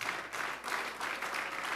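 A church congregation claps in loud, rolling bursts of applause that swell and dip several times.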